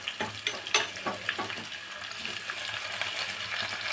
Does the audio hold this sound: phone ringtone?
no